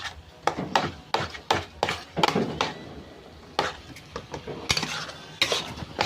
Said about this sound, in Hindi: इसको बहुत पेशेंस के साथ भूनूंगी। हमेशा चलाती रहूंगी कि कहीं चिपके ना।